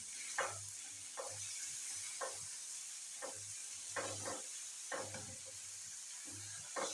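Spices being stirred into a beaten egg omelette mixture in a bowl, with repeated soft scraping strokes in short bursts over a steady background hiss.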